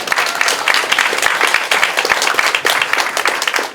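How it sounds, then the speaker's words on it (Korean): Lively audience applause at a candidate's campaign office opening event, dense rapid clapping from a crowd close by and loud, continuing steadily with no talk. "박수 한번 보내주십시오."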